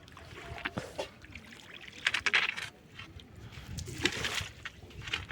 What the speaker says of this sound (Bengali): এখন আমরা যেখানে নৌকা চালাইতেছি ওইখানে কিন্তু রাস্তার উপর অনেক পানি